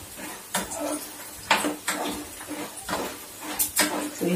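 Moong dal badi frying in a pan over a low gas flame, with a soft steady sizzle broken by several sharp clinks and scrapes of a spoon against the pan.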